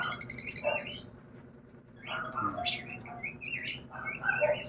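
A bird chirping while feeding a young chick, with short scattered high tweets and whistled calls at close range over a quiet background.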